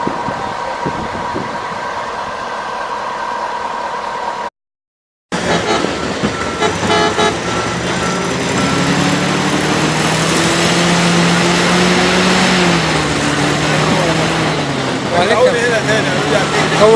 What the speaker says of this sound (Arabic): عربية اهي.